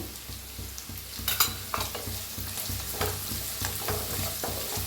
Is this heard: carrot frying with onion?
yes